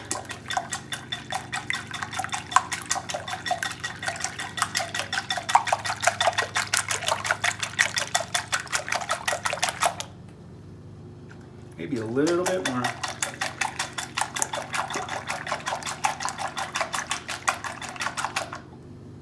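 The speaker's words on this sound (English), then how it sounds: "we're going to use the purple balloon whisk to beat these up till they're uniform" A purple balloon whisk beats eggs in a bowl, giving rapid, steady rhythmic clicking and sloshing for about ten seconds, then a short pause with a brief spoken remark, then more fast whisking.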